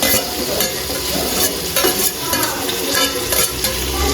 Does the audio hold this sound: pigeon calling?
no